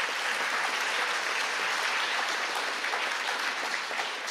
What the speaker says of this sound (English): So let's give them a nice round of applause.